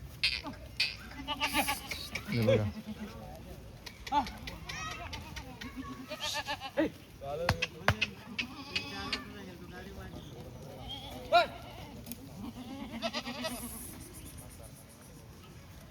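Rajasthani Marwari goats freshly unloaded for sale bleating intermittently at close range, scattered calls over a faint insect hum, with someone speaking briefly between them.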